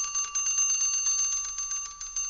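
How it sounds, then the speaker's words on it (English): An electric bell rings steadily inside a bell jar as a vacuum pump draws out the air, a continuous bright metallic ringing with rapid pulsing strikes, heard alone at moderate level. "Now, let us slowly remove the air from the bell jar using the vacuum pump. The intensity of sound is decreasing."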